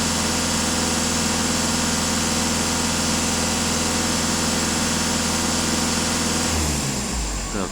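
A VW Passat, Seat Leon or Skoda Octavia petrol-era engine idles with a steady close drone and a faintly uneven, rough beat, changing pitch and settling near the end.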